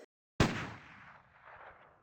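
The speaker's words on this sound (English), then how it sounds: "A gunshot, obviously." A single sharp gunshot from the Resident Evil video game, a sudden loud crack that decays into a reverberant rumbling tail, heard alone.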